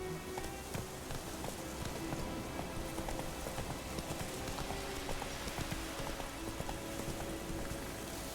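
Hoofbeats of Roach, the horse in the video game The Witcher 3, clip-clop steadily and close throughout, with busy game ambience and a faint rain-like patter underneath.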